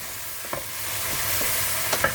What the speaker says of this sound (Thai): ผัดให้สุกแค่ครึ่งเดียวพอ